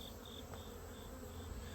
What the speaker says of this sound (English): There are too many bees flying around for robbing.